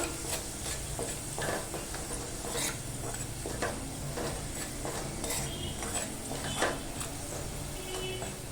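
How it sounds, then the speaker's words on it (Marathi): Onion, turmeric and Malvani masala are stirred in hot oil while making a Malvani-style fish curry. The spoon scrapes repeatedly over a steady sizzle, and the sound stays close and continuous with no talking. "हा ना तेलावर छान असा परतून घ्यायचा आहे"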